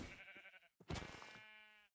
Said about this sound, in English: I'm not gonna kill you, brown sheep, because I already have enough cloth